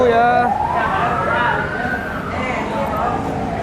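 An ambulance siren wails past a roadside coffee stall, its loud tone sweeping and sliding as it goes by, then fading under ongoing street noise and background chatter.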